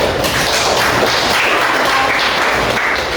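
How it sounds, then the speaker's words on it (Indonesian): Students in a high school classroom clapping together, a dense continuous patter of many hands at steady loudness throughout the short stretch. "Oke, tepuk tangan untuk"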